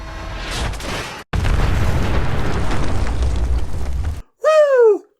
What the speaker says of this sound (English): Random explosion time!